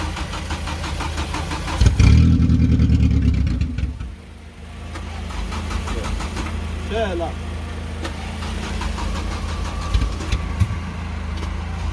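An Audi S3 car engine cranks and fires up close at about two seconds, then settles into a steady, rough idle that runs to the end, with voices talking over it.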